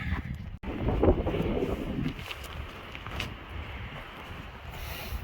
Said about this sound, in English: that wind is starting to pick up